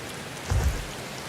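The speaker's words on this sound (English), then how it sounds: "it's raining and it's getting drenched" Steady rain hisses in Final Fantasy XIV (Endwalker), a soft even wash with a brief low rumble swelling near the middle.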